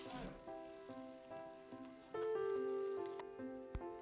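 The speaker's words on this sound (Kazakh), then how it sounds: "Қызып тұрған қазаныңызға 1 кесе сұйық майды құйып, пиязыңызды қызарғанша қуырып алыңыз." Onions fry in a cup of hot oil in a pot, giving a soft, faint sizzle that swells and grows louder partway through, with light crackles; no one talks.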